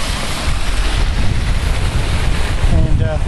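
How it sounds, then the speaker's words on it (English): Natural waterfall in a brook in the rolling ravine hills of Eden, Ontario, a steady broadband rush of falling water mixed with wind buffeting the microphone, continuous and fairly loud throughout. "You can hear the natural waterfall behind you."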